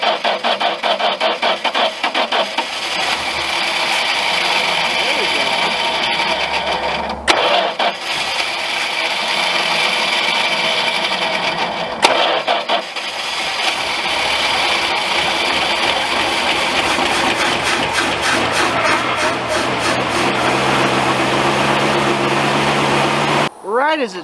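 A classic car engine cold starting with a knife tool propping the choke, running steadily loud throughout with a rough, busy mechanical drone and a couple of brief dips, as though it stumbles before picking up.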